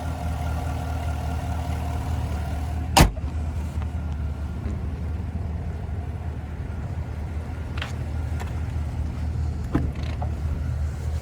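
A 2022 Cadillac Escalade Sport with a 6.2-liter V8, its engine running in a low steady rumble heard from inside the cabin, with a sharp click and a few faint knocks over the hum, no speech.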